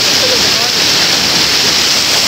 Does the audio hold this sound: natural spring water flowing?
yes